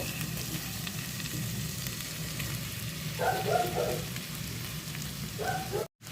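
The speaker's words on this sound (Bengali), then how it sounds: "কাজুগুলোকে আমি ভালো করে ভেজে নেব এবারে এর মধ্যে আমি টমেটো কুচানোগুলোকে দিয়ে দেব" Cashews and chopped tomatoes fry in a pan with a steady close sizzle, swelling into brighter crackling bursts twice as ingredients hit the oil, ending with a brief cut.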